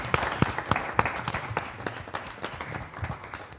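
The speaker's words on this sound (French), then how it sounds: "Vous pouvez vous applaudir." A small studio audience at a televised school program claps, with distinct individual claps giving a loose, sparse patter that gradually thins out.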